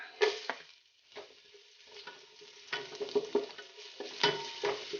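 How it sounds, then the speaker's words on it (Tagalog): Garlic and ginger sautéing in a pan, irregular scrapes and clacks from stirring over a soft sizzle, with one short lull, heard alone at close range. "gisin natin ang bawang"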